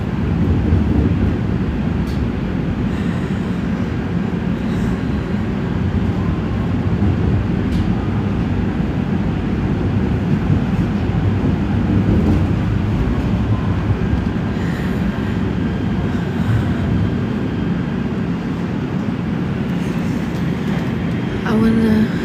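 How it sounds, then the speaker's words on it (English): A Los Angeles Metro E Line train rolls along with a loud, continuous low rumble and rattling wheel noise throughout, heard close from inside, with occasional faint clicks and no clear talk. "This is the Metro E Line train."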